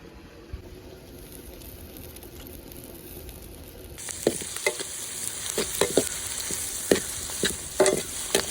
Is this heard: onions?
yes